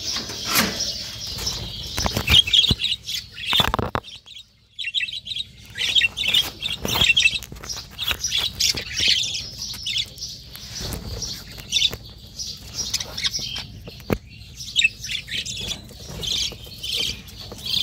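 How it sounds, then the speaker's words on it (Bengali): Small caged birds chirp and tweet as they flutter down to feed on water spinach, the calls busy and overlapping, with wing flaps and clattering knocks throughout and no talking. "এখন প্রত্যেকটা পাখি নিচে নেমে আসবে"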